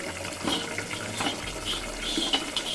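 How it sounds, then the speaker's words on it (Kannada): Tap water runs steadily into a sink while dry fish is rinsed, with close splashing and small clinks over a constant flow. "ಈಗ ಈ ಡ್ರೈ ಫಿಶನ್ನು ಸ್ವಲ್ಪ ಚೆನ್ನಾಗಿ ತೊಳಿಬೇಕು ಸ್ನೇಹಿತರೆ"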